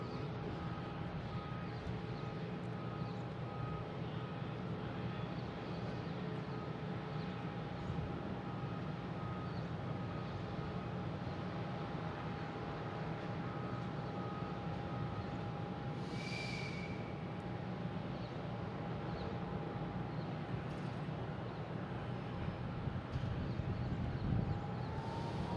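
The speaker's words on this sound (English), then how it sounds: "Right now, we have American Airlines coming in. The big one, 777." American Airlines Boeing 777 arriving from London Heathrow at Boston Logan, a distant, faint, steady engine rumble with a thin whine, alone and without voices.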